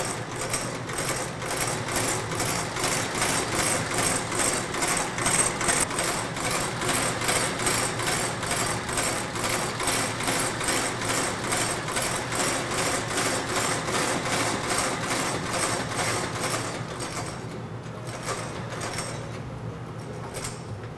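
A sewing machine stitches red welt thread onto a pair of Red Wing leather boots, its steady rapid clatter running continuously and close for most of the stretch before easing slightly near the end.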